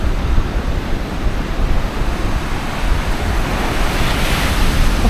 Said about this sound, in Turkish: çok dalga var ya